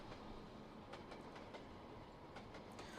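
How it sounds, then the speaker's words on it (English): A TGV Thalys high-speed train rolls slowly in Trainz Simulator 2 on a Paris Gare du Nord route, giving a continuous rumbling run of wheels on rail with occasional clicking joints, steady and unbroken. "we're running a high-speed train, but we're going pretty slowly right now"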